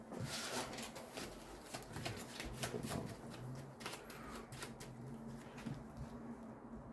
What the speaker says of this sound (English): Ron, do you want to give your Reds a shuffle, Ron?